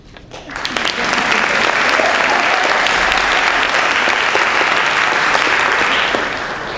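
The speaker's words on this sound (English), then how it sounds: "give you a round of applause" An audience in a theater applauds at a Roane State Middle College cording ceremony. Loud, dense clapping swells in within the first second, holds steady and full for about five seconds, then begins to fade at the close.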